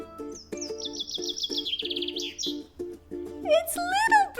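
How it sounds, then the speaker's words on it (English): A bird chirps in a rapid warbling trill over a steady background melody, then gives a few sharper, louder calls near the end; a voice seems to speak in the middle. "Did you hear a bird?"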